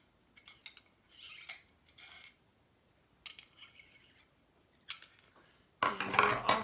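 A metal rod slid into the base of a Wicked Edge knife sharpener to push the stored paddles out makes a series of close, light metallic clicks, scrapes and clinks, ending in a louder rattling clatter.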